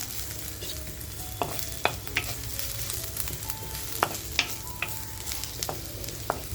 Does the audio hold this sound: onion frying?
yes